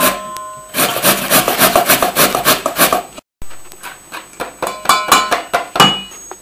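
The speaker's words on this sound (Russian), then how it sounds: "сотру на терке." Peeled potatoes are rubbed against a kitchen grater in quick rhythmic strokes, loud and close, with a brief silent gap midway before the grating resumes.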